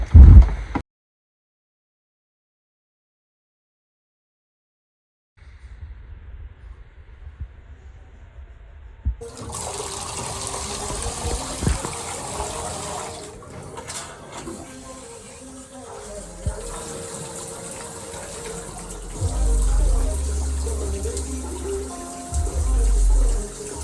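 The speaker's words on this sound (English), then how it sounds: "Turn on some water." Water runs from a newly installed three-handle shower valve in a bathtub, a steady hiss and splash that starts after a pause and continues with clunks and faint voices in the background.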